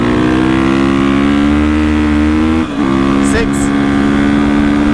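A 2021 GasGas EX 350F dirt bike holding 5th gear: a loud, steady engine drone at constant revs that dips briefly midway and then resumes, heard close from the rider's position with wind rush.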